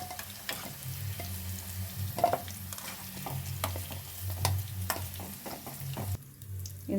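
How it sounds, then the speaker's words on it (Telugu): Amla frying in a pan until lightly coloured, a soft steady sizzle broken by repeated spoon scrapes and taps as it is stirred, close and fairly quiet. "ఒక 2 మినిట్స్ వేయించుకోండి, కొంచెం లైట్ కలర్ వచ్చేదాకా"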